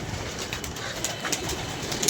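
Pigeons kept in a net coo steadily in a dense, continuous flock chorus with faint fluttering, close and fairly loud throughout.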